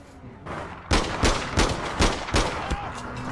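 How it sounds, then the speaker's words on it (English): Gunfire in the game APB Reloaded: about six sharp, loud shots spaced roughly half a second apart, each a broadband burst over steady background game noise. "I shot him a couple of times."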